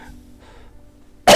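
A single sharp cough bursts out loudly at the very end, after a near-silent stretch.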